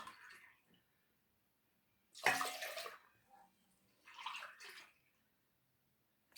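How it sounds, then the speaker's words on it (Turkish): Milk being poured into a pot to make a milky syrup for tirilçe dessert: two close, splashy bursts of liquid pouring with a short pause between them, then quiet. "3 su bardağı süt koyuyoruz arkadaşlar"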